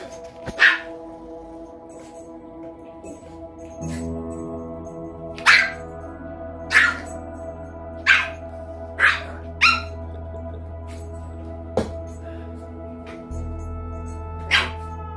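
A four-month-old puppy and small Yorkies bark while playing, sharp yips repeating at irregular intervals, close and loud over a low steady hum.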